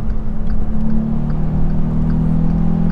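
The 113-horsepower engine of a Volkswagen Up GTI hums in a steady, loud, low drone as the car drives on. No voices are heard.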